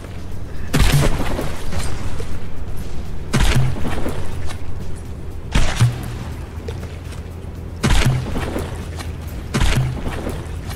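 Battleship shells strike in the From The Depths naval combat game, as a series of heavy booming impacts about every two seconds. Each impact is sharp and loud over a constant low background rumble, with no talking.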